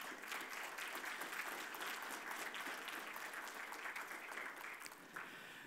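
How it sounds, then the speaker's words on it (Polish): Sustained audience applause at an awards ceremony thanking sponsors, even and continuous clapping with a faint crowd murmur, recorded at a low level and fairly distant. "Ogromne brawa."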